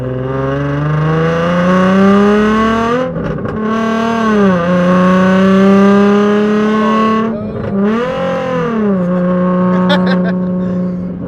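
A Nissan 350z fitted with a Tomei exhaust and test pipes revs hard, a loud raspy drone rising and falling through several pulls with crackling dips between, very close and dominant.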